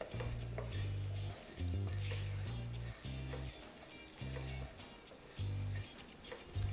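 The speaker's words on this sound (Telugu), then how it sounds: "కొబ్బరిని కూడా 1 నిమిషం వేగనివ్వాలి." Grated coconut fries in a pan for a traditional Telugu munagaku curry, a steady close sizzle with scraping stirs throughout and a low rhythmic knocking underneath.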